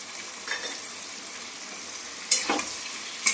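Fish curry with chili powder and salt is stirred in a hot pan, a gentle sizzle underlying several sharp spoon scrapes and clinks against the metal, two of them louder near the end.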